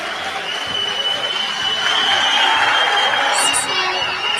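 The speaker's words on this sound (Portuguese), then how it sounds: "Salva de palmas!" After a speech at a CPAC conference, an audience breaks into sustained applause with some crowd noise and cheering, a dense continuous wash that swells midway and carries on.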